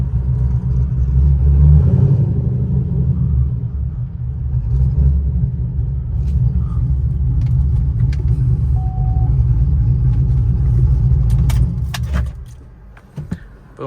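A car engine idles with a loud, deep, steady rumble close by, swelling slightly as if revved, then cuts off near the end, followed by a few clicks and rattles.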